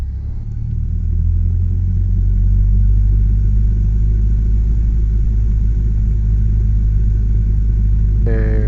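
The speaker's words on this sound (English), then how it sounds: "Throttle up to 1800 RPM for the run up." A Cessna 172 engine holds a steady, loud, low rumbling drone at 1800 RPM during a run-up, with no break in the sound.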